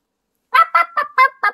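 Five quick clucking or squawking calls in a burst, close and clear against silence, a voice imitating a chicken.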